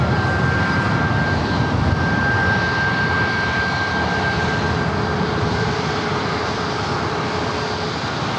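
A plane at San Diego airport roars low overhead, a loud, steady jet engine rumble that holds level throughout with a faint whine riding above it and no voices.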